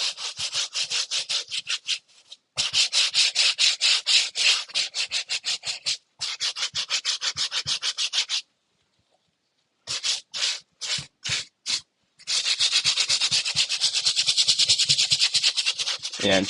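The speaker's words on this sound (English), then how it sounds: "we're going to start going for the midsole with our medium bristle brush" A medium-bristle brush scrubs a sneaker midsole in loud, rapid back-and-forth strokes, coming in long bursts broken by brief pauses and a run of short separate swipes.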